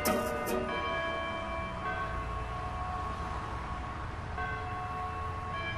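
Church bells ring at a distance with layered sustained tones and a few brighter strikes at the start, a faint steady hum and low rumble underneath.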